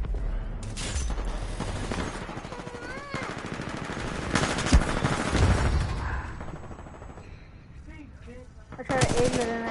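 Weapon fire in the Titanfall shooter game, bursts of rapid gunfire and booms coming in waves across the clip, loud and dense, with game sounds and some voice mixed in.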